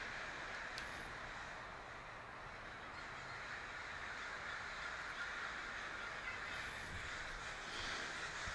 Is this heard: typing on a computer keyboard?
no